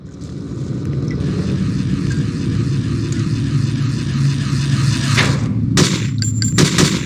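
Big guns firing in the video game Hitman: Codename 47, a steady heavy rumble broken by several sharp blasts toward the end.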